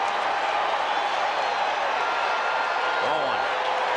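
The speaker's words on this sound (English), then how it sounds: "Boy, this crowd came here to make some noise tonight." At a baseball game at Shea Stadium, the crowd makes a constant, broad roar of cheering and chatter that holds at an even level throughout.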